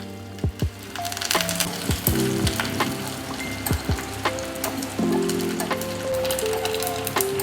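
Curry leaves, mustard seeds and urad dal sizzle and crackle loudly in hot oil, with sharp popping bursts over a constant frying hiss.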